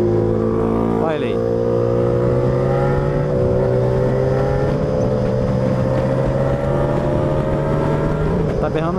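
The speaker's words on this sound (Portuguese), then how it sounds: "Tá berrando legal minha motinha" A four-cylinder sport motorcycle roars steadily while being ridden, a loud, close harmonic drone with gentle pitch rises and dips as the throttle shifts, over constant wind noise.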